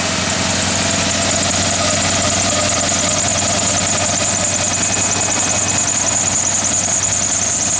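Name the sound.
1977 Ford Bronco engine idling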